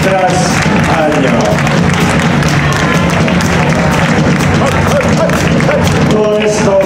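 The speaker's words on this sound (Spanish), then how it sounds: "Un fuerte aplauso para ellos, que creo que se lo merecen año tras año." An audience at a Barcelona blues festival concert applauds, a dense, loud and steady wash of clapping with scattered cheers that fills the whole stretch without a break.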